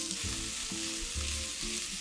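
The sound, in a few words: calabresa sausage and onion frying in a pan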